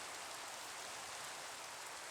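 Rain falling in the video game Minecraft, a steady, even hiss of soft rainfall with no distinct drops standing out, faint and continuous throughout.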